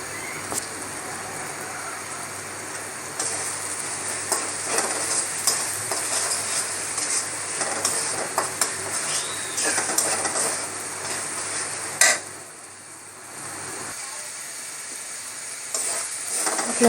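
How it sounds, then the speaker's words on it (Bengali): Spices and salt sizzle steadily in hot oil while being stirred, giving a continuous close frying hiss with scraping strokes and a brief dip in loudness near the end. "সেই মশলাগুলো তেলের মধ্যে কষিয়ে নিচ্ছি।"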